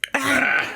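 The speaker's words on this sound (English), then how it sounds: "Maybe I should clear my throat." A short, close throat clear: a brief rasp followed by a voiced, gravelly rumble lasting under a second.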